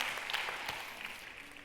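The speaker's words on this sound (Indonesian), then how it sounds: "Kalau dari tepuk tangannya kurang great sih untuk great life itu." Audience applause at a seminar, a brief, fairly faint patter of many hands clapping that fades out within about a second and a half.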